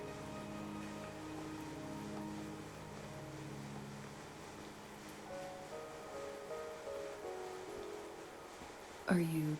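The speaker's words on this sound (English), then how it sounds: "Are you trapped here by the rain?" Steady rain falls in a video game world, a continuous broadband hiss that washes evenly under faint game tones, with a brief sharper sound rising near the end.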